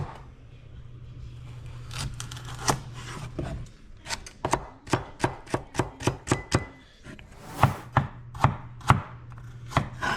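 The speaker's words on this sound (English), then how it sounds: "All right, chopping's done." Carrots are chopped on a cutting board in uneven bursts of sharp knife taps, close up, with a low hum underneath and no talking, while making beef minestrone soup.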